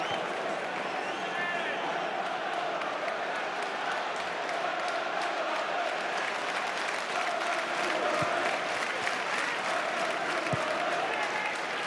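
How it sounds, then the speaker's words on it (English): A stadium crowd of over 20,000 at a Norwich City versus Reading Championship football match keeps up a steady, dense roar of cheering and applause throughout, broad and continuous from start to finish. "the 20-odd thousand strong crowd trying to lift Norwich here"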